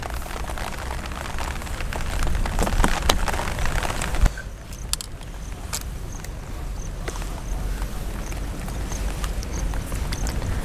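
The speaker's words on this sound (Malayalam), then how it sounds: "ചെറുതായി മഴ വരാൻ തുടങ്ങിയിട്ടുണ്ട്" Light rain falls outdoors at a village cooking spot, a continuous soft patter and hiss with a few sharper drops, steady throughout.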